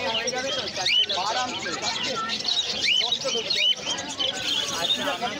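Pineapple conures and other exotic birds chirp and tweet in repeated rising calls at a busy bird market, with people talking throughout.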